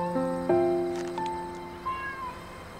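Small kittens meow several times in overlapping high, wavering cries, close by and fairly loud, with a soft caterwaul-like note near the end and no talking.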